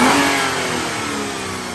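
Budget track car engine revving after a cheap modification, a loud close mid-pitched roar that peaks at the start and then holds at a steady high rev with a slight fall, no speech.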